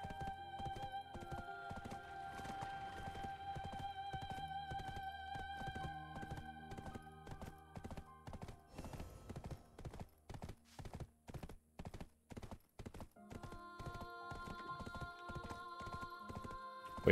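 Horse hooves clip-clop in a quick, even trotting rhythm over layered game music in Black Desert, the steps continuing steadily throughout.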